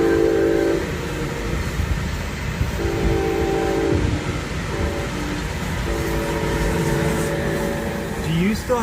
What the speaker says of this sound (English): here comes another train. Man, these things come so often.